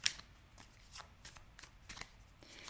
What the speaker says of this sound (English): I'm just going to shuffle just for a moment here to see if anything else wants to come through.